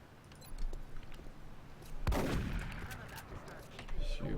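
Gunfire in the XCOM video game: a sharp, loud burst of shots about halfway through that trails into a sustained rumble, set against low background noise, with a voice talking nearby.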